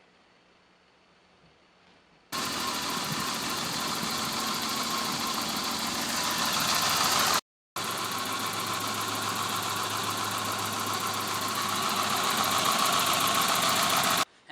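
A BMW E30 with an M20 engine idling, played as two back-to-back recordings split by a brief cut: the first before cleaning the idle control valve, the second after. Both give a close, loud, steady engine hum with faint background noise before it starts.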